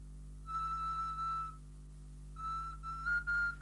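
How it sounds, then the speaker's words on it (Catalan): Paris's pan flute in a tale of Greek myth plays a soft, thin whistle-like tune in two short phrases with a pause between, faint over a steady low hum. "Sentiu? És com una mena de xiulet. És la flauta de Paris."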